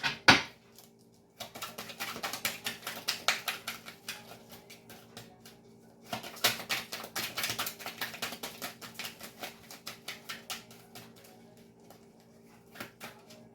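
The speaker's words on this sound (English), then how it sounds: "2 more shuffles and I will pull from the top." Tarot cards are shuffled in two bursts of quick, crisp riffling taps, each a rapid patter of slaps separated by a short pause.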